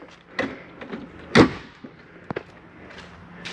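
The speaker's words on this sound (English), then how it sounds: "Now we're going to bring up our door" The entry door of a 2014 Coachman Clipper 108ST camper is raised, making a loud, close thump followed by a few sharp clicks and light rattles.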